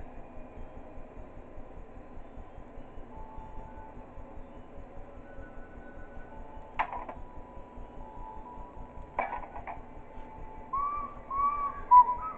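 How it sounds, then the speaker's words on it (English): A faint, wavering whistled tune from Principal of the Thing in the video game Baldi's Basics drifts under a steady low rumble, with a couple of sharp clanks breaking in partway through. "I hear Principal the Thing whistling."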